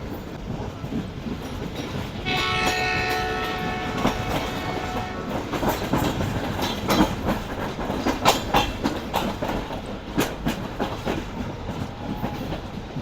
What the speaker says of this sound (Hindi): आहिस्ता आहिस्ता उछलते कूदते ट्रेन हमारी